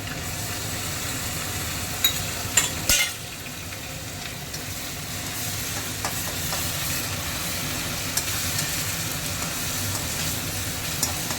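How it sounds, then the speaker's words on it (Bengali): Garlic paste from three medium cloves sizzles in a pan with onions fried red for a chicken curry, a steady close hiss with a few sharp clatters early on and no talk. "এইবার আমি রসুন দেবো"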